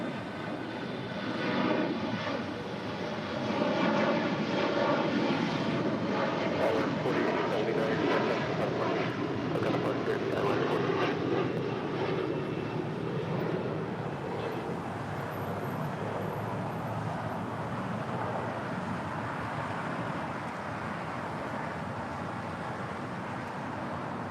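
A KLM Boeing 787 Dreamliner touching down on runway 25L at Los Angeles International Airport gives a loud, sustained jet roar that swells early and holds steady throughout, with faint distant talk beneath it.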